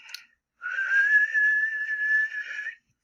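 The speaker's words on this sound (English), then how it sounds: "Let me try and whistle if I can, and you'll see what the frequency of my whistle is." A person whistles a single sustained tone to demonstrate its frequency in a physics lecture, holding one steady pitch for about two seconds after a brief short note, close and clear with no talking.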